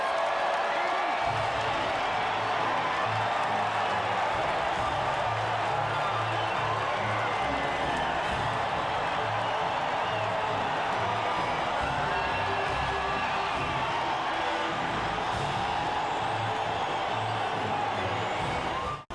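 Crowd cheering and whooping at a podium finish in the F1 2020 racing video game, a steady, broad roar of cheers lasting throughout with a low engine-like hum beneath.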